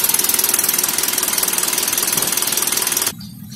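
A Toyota Sigra engine runs on old spark plugs during a 90,000 km service, a close, loud idle with a fast regular knocking pulse, cutting off sharply near the end.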